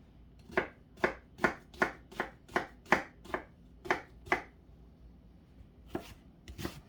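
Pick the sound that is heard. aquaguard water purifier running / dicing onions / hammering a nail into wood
dicing onions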